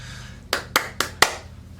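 Four sharp hand claps in a quick, evenly spaced rhythm, close and crisp against a quiet background.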